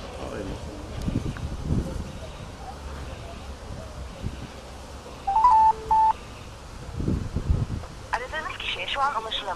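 Telephone dialing and call tones on a phone line, heard as a short burst of steady electronic beeps midway, surrounded by ongoing talk and wind-like background noise.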